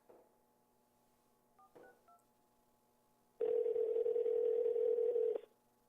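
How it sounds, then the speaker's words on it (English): A steady telephone dial tone hums for about two seconds after a few short keypad beeps, clear and close with no talking. "Is that dial tone going on the video?"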